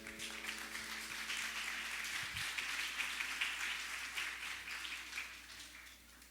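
Congregation at a women's retreat applauding the word of God after a Gospel reading, a steady wash of many hands clapping that fills the room evenly from start to finish at moderate loudness.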